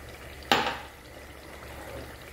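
A glass of vinegar goes into a spicy pepper sauce with olive oil and Worcestershire sauce, making one sudden splashing rush that quickly fades into a low, steady background hiss.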